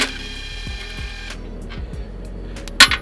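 An impact gun works on the nuts and bolts holding the teeth on a JCB or Kubota style excavator bucket. A rapid mechanical rattle runs close and loud, then a bright metallic clink follows near the end.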